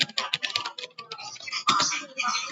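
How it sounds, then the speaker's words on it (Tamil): Rapid clicking keystrokes on a laptop keyboard during a computer class, close and fairly loud, typed in quick irregular bursts with short pauses and no talking. "ஸோ அந்த மாதிரி யூஸ் பண்ணிட்டு நம்ம இங்க டைப் பண்ணிக்கலாம்."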